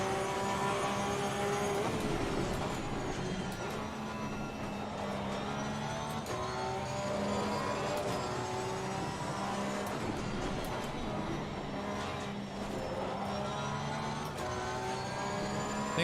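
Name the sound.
Porsche race car engine at Zolder, Assetto Corsa Competizione video game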